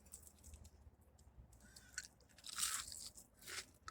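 Crunchy onion rings are bitten and chewed up close, giving faint, irregular crisp crunches and soft chewing, with a louder crunch near the end.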